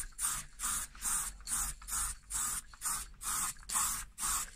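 An aerosol spray paint can sprays a car steering wheel in short, evenly spaced hissing bursts, about nine of them, each followed by a brief pause as the trigger is pressed and released, close and fairly loud.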